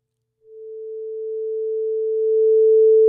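A pure sine wave tone from a Pure Data oscillator starts after a short silence and holds one steady pitch, swelling gradually louder over about three seconds before cutting off abruptly.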